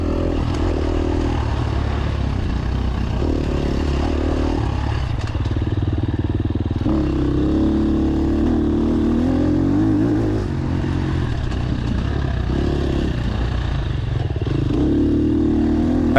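A newly bought motorcycle being ridden, its engine droning loud and continuous with rising and falling revs as it accelerates and shifts, over rattling and wind rush.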